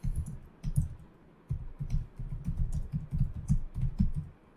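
Fast, steady typing on a computer keyboard while data is entered into a new file, close and continuous clicking in uneven bursts with no voices.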